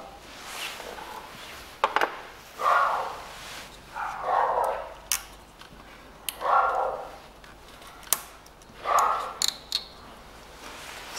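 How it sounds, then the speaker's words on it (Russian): Neighbours' dogs bark off in the distance, several scattered bursts of yapping spread over the stretch, heard outdoors while a Toyota Avensis 2.0 (2007) throttle body is being removed for cleaning, with occasional sharp clicks and knocks of tools nearby. "Что-то собаки сегодня раздявкались соседски."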